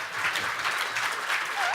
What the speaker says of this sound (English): give her a hand clap for that one